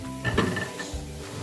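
A lid settles onto a pot of aloo palak, a potato and spinach curry, with a brief metallic clink and a second lighter clank over a low kitchen hum.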